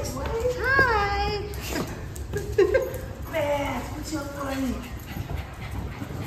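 Dogs whimpering and whining in a home at night, several rising high-pitched whines and soft pants, close, mixed with people talking excitedly.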